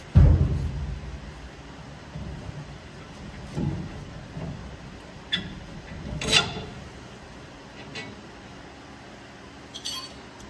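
Steel leaf spring leaves on a truck axle slide with a scraping metallic rub, followed by scattered clinks and knocks as a bolt is fitted, close and moderately loud in a quiet workshop.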